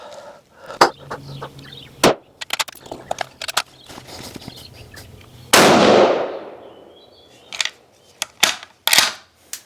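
A single sharp, loud report from a Savage Axis bolt-action rifle at a target shooting session, a bright burst followed by a decaying ring, with scattered clanks and knocks before and after.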